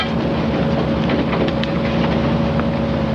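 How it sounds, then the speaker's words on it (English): Patrol boat engines, the second in line, run up toward 20 knots with a steady droning hum and rhythmic low thumping, loud and continuous with no talk over it. "Second engine in line, ready to go. Bring her up to 20 knots"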